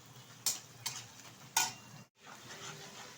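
Onions frying in a pan for a shrimp pulao, with a soft steady sizzle broken by a few sharp scraping stirs, faint and close, no talk.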